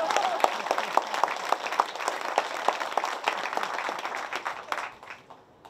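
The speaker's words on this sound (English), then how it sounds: "Give me a round of applause." A round of applause from an audience after a speech about a national urban park, steady clapping with some distinct claps standing out, fading away at the close.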